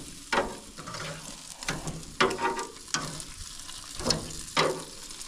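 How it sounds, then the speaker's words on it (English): Ribeye steaks cook on an outdoor grill with a moderate sizzle, broken by several bursts of scraping and clanking as they are checked and turned. "Time to check the steaks again and turn them."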